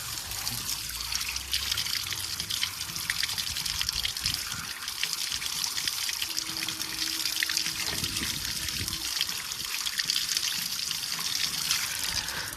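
Water trickles and splashes steadily over an adenium plant as it is washed, a continuous close pouring sound that runs unbroken for the whole stretch with no voices.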